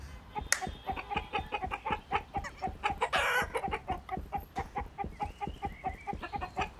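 Rhythmic chicken clucking from the video game My Friendly Neighborhood repeats steadily, with a brief louder squawk burst in the middle and faint electronic tones behind.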